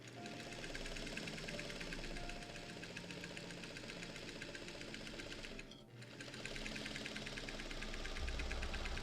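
A Singer 301 vintage sewing machine runs at a steady rapid clatter, briefly pausing, then resuming and speeding slightly; mechanical whir and rhythmic ticking throughout.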